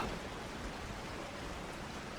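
Heavy rain at night as a horror story sound effect, a faint, even, continuous hiss with no talk.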